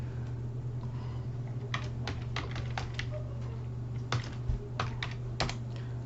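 Keystrokes on a computer keyboard while typing a file name in a code editor, a few quick bursts of clicky taps separated by pauses over a steady low fan hum, close and moderately loud.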